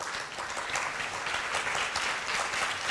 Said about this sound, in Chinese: 那我们现在以掌声来欢迎米莉亚为我们演出这一首